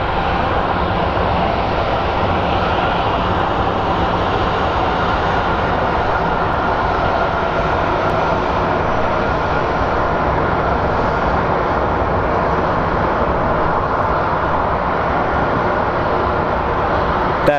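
A Southwest airliner arriving at Phoenix Sky Harbor Airport roars loudly and continuously, a steady broadband jet rumble and whine that stays at close range throughout without fading.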